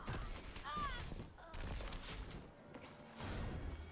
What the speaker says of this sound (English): Pulse grenades are OP